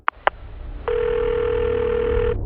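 A landline telephone is picked up to call the police: two quick clicks, then a steady dial tone hums alone for about a second and a half before cutting off.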